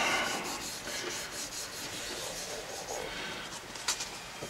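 Wooden pen blank being sanded on a lathe, a close, continuous abrasive rubbing hiss with a steady pulsing rhythm, fairly loud and alone, with a faint bird call in the background.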